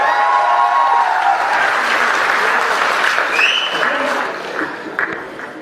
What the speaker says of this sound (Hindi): हाथ उठा के मुझे बताएं तालियों के साथ।